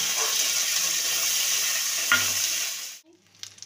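Cumin and ginger paste fries in a hot pan for a vegetarian banana-stem curry, a loud, steady sizzle that holds for about three seconds and then drops off suddenly to near quiet.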